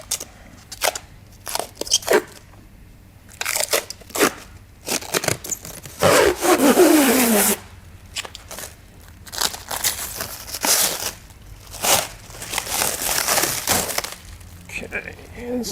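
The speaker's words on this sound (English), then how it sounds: "I'm going to grab my cellophane," Cellophane cling wrap crackles and crinkles in sharp, irregular bursts as it is pulled off the roll and handled up close, with a longer tearing stretch in the middle and spoken words in between.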